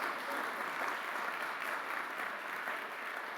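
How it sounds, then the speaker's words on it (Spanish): A church congregation claps steadily in praise during a Spanish-language sermon, a dense, even wash of applause that holds at a constant level throughout with no voices on top. "fuerte ese aplauso para nuestro Dios."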